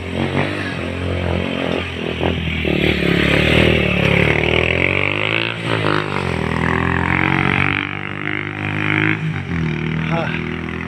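Single motorcycle used as local hired transport on a rough mountain road in Pigbaluyan, Jose Abad Santos, its engine droning and revving steadily throughout while someone talks over it.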